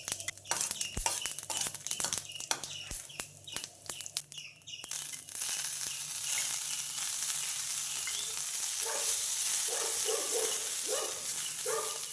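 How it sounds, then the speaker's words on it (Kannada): Cumin, pepper and Bhumi Amla leaves roast in ghee, giving a steady close sizzle after a few stirring clatters, with faint bird calls chirping in the background. "ಇನ್ನು ಜೀರಿಗೆ, ಮೆಣಸು ಮತ್ತು ನೆಲನೆಲ್ಲಿ ಗಿಡವನ್ನು ತುಪ್ಪದಲ್ಲಿ ಹುರ್ಕೊಳ್ಬೇಕು"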